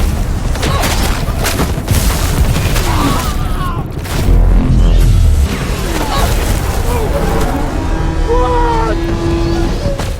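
A loud, rumbling explosion boom in a war machine movie battle scene, with deep low-end bursts mixed into dense action sound effects and background score, a heavier impact swelling midway through.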